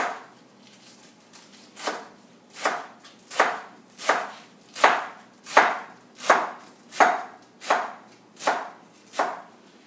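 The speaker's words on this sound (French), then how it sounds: "Puis après ça, on les coupe. Fait que ça va vous faire des lanières." A knife slices rolled-up kale leaves into strips on a cutting board, about a dozen crisp, evenly spaced chops in a steady rhythm, close and clear, with no talking.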